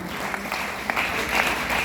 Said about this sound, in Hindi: तो एक बार जोरदार तालियां बजेंगी